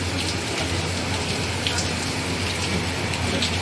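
Steady rain falls outdoors, an even, dense patter of drops on surfaces that runs unbroken and fairly loud with no talk over it.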